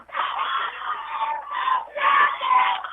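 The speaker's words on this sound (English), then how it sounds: "Boy, you really hear the crowd here getting wound up." A crowd at a high school softball game yelling and cheering in surging waves, shrill voices rising and falling with brief dips, heard through a somewhat thin, band-limited recording.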